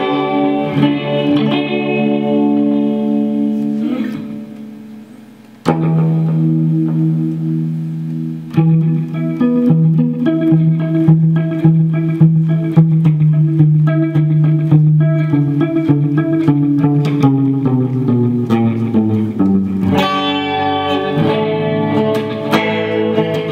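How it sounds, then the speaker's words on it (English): An electric guitar played through a chorus effect modeled on the Boss CE-2 and run into an Axe-FX II, with loud sustained chords and notes that swell and shimmer continuously. "Actually, what I'll do is I'll add a chorus. This one's based on the Boss CE2."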